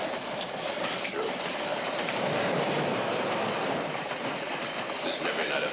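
Inside a moving passenger train, a steady loud rumble of wheels and carriage noise runs throughout, with faint rhythmic clatter and a trace of muffled voices.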